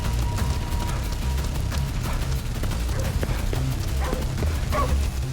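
Dog barking and yipping in the video game Ghostwire Tokyo, several short barks and whimpers scattered over a steady low game ambience.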